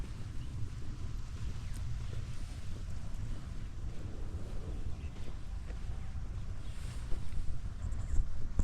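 Cold winter morning wind gusting steadily on the bank of the Brahmaputra river, a constant low rumbling roar of air buffeting the microphone, with a faint rustle above it and no talking.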